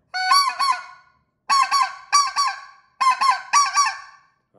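A specklebelly goose call is blown in short honking notes that break sharply from a low to a high tone, sounding in loud, close pairs with brief silences between them and no voices.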